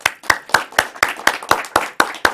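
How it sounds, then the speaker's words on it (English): Applause at a Toastmasters club meeting: a close, steady run of about ten sharp, evenly spaced claps, with no voices. "I want to give a round of applause to all of our participants who came up here today"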